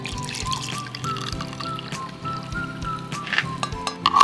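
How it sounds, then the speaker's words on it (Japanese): Hot water poured into a container at a winter solo campsite with a wood stove, a steady trickling stream with small splashes, fairly close and continuous. "ここを外してここに一旦お湯を入れて"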